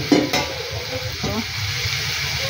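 Mung beans stirred and fried in a pan with cooked tomatoes, a steady loud sizzle with a few scraping stirs and clinks near the start.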